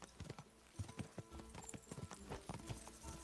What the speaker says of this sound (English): Oh no, because I picked the slower horse.